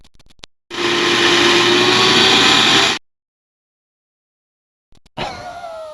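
Vacuum cleaner in the 1998 Sesame Street: Letters PC game, a loud steady motor whine that runs for about two seconds and stops sharply, then starts up again briefly near the end.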